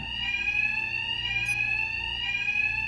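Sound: alarms blaring in Batman: Arkham Knight video game

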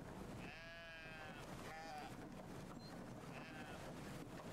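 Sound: sheep bleating in video game Brothers: A Tale of Two Sons

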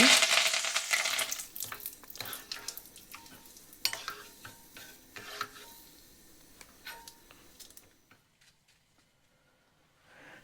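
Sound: curry leaves frying in hot oil

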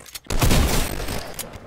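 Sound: gunfire in Fortnite video game

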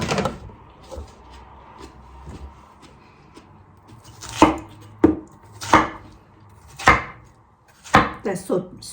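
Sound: chopping watermelon into pieces for a box

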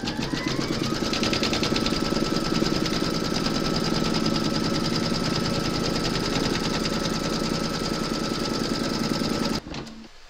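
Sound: embroidery machine stitching appliqué round

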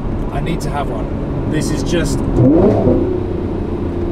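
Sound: Lamborghini Murcielago LP640 engine revving

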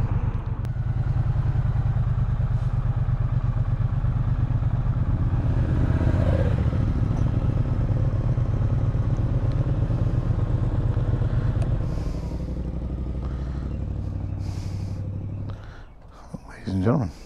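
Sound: Triumph Bonneville T120 motorcycle engine while riding

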